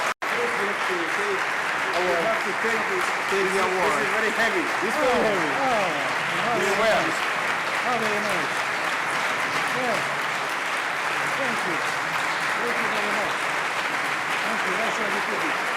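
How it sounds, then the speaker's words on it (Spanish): An audience at an award ceremony for the 2009 Juan de Mariana prize applauds with dense, sustained clapping that fills the room from start to finish, steady and moderately loud. "Un aplauso,"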